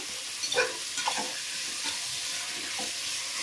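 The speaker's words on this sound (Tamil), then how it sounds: "கட் பண்ணி வச்சுருக்க பீன்ஸ் போட்டு நல்லா கிண்டி விட்டுட்டு" Cut beans are stirred in a hot pan for vegetable biryani, giving a soft steady sizzle with a few faint scraping stirs, quiet and close.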